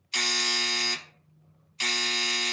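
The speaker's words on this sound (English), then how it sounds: "This buzzer's really finicky." A trivia night game buzzer sounds twice, loud and harsh, each a flat electronic tone lasting close to a second, separated by a short quiet gap.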